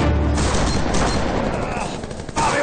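Gunfire in a Spanish-language TV drama, a loud dense burst of rapid shots and cracks filling a few seconds, close and harsh with a brief lull before another blast.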